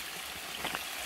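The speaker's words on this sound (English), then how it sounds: "The stream is running." Steady broadband rushing of a stream flowing close by after a thunderstorm downpour, with a brief gurgling swell near the end and no voices.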